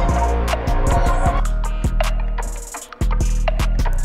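Old tribal percussion loop sample pitched up and played fast without halftime: rapid, loud layered drum hits and bright clicks in a busy rhythm, with a short dip before the pattern restarts abruptly.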